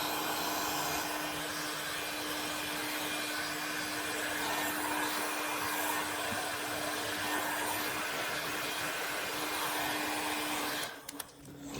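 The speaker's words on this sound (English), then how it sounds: "So I'm just going to heat gun all these." A heat gun blows continuously with a steady whooshing roar and a faint tonal whine, heating parts during a Sur Ron X BAC 8000 controller install, close and unbroken until it cuts off near the end.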